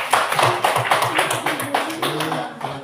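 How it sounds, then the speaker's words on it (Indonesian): A classroom of students claps hands together in a quick, rhythmic burst, loud and close, with a voice faintly mixed in. "Tepuk tangan dulu."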